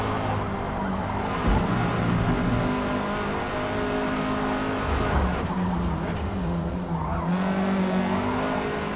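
Race car engines in the Forza Motorsport video game, a continuous loud drone of revving engines with tire squeal and skidding woven through, shifting pitch as the cars move, with no talking.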